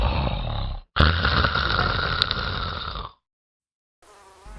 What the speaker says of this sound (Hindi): अरे यहाँ पापा की खर्राटे सुनो